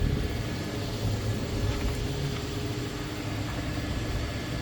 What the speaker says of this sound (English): That is a 4-wheel drive Jeep running.